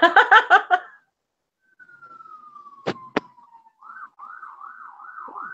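A few short electronic beeps, a falling whistle-like tone and two sharp clicks, then a warbling, siren-like wail rising and falling at moderate volume.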